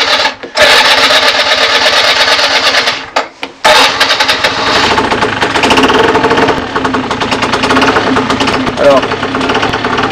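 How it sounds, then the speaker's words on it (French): A used scooter's engine starts with a brief starter whir after a pause, then idles with a steady, buzzing, rapid putter that stays loud throughout, while someone speaks briefly. "Maintenant on va démarrer le scooter."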